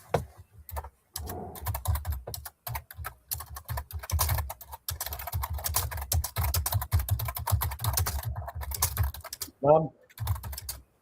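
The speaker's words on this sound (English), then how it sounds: "Is that you typing?" Rapid, uneven keystrokes on a computer keyboard clatter close and steady through most of the stretch during an online board meeting, pausing briefly near the end where a short voice cuts in.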